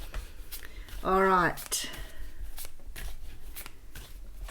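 Tarot cards shuffled by hand in a run of dry, papery riffles and shuffles, close and fairly soft, with a brief spoken voice partway through.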